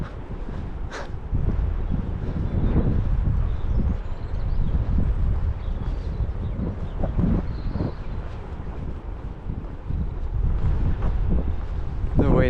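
Strong wind gusting across a coastal clifftop walk in Cornwall, a loud continuous low roar buffeting the microphone with surges and lulls throughout.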